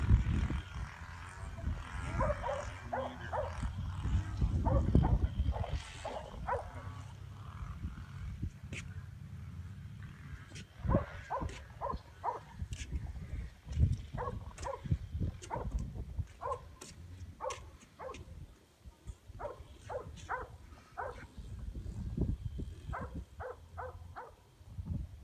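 A dog barking outdoors on a sunny day by clear water, repeated sharp barks in uneven bursts with some whimpering and growling, fairly near over a low, rumbling background.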